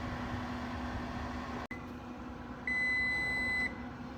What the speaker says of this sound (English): our timer went off for the 45 minutes